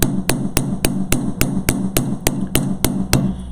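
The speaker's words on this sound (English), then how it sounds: "I know where my hammer is going to be striking" A metal hammer strikes wire laid on a bench block in a steady, evenly spaced series of about a dozen sharp, loud blows. Each blow is close and ringing, and no voice is heard.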